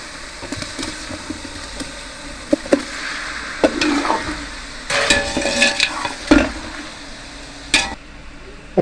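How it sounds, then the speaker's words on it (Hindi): Three kilograms of chicken being stir-fried in a large pot for Sindhi biryani, with a steady sizzle and repeated scraping, clanking stirs of a metal spoon against the pot, close and fairly loud. "5 मिनट हो चुके हैं चिकन को भूनते हुए"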